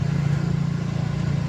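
A motor vehicle, ridden on a road near Prabhadevi beach in Mumbai, gives a steady low engine drone with a faint rhythmic pulse, close and continuous throughout with no talk.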